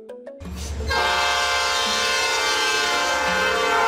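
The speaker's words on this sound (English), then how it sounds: "Freight train, a train dedicated to transporting goods and cargo rather than passengers." A freight train carrying goods rolls past with a loud, sustained horn blast that swells in and holds steady, the deep rumble of wheels and cars continuing beneath it.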